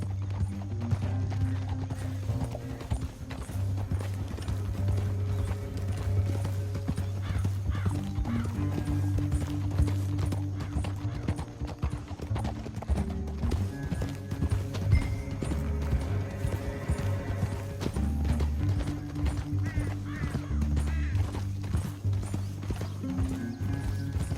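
Steady clip-clop of horse hooves at a walking rhythm in Red Dead Redemption 2, continuous and close, with a brief whinny and faint mechanical clicking mixed in.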